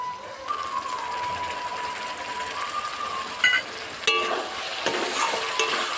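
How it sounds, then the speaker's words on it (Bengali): Spice paste for chicken tikka masala frying and being stirred in a pan, a continuous soft sizzle with occasional scraping clicks of the spoon against the pan, fairly close and quiet. "আবারও কিছুক্ষণ মশলা কষিয়ে নেব।"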